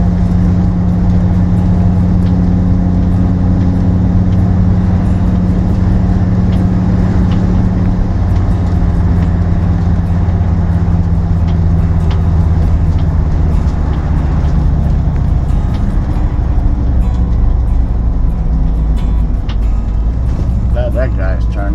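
A motorhome towing a car cruises along a highway, with a steady loud engine and road rumble that holds throughout, a low drone shifting slightly in pitch as it drives.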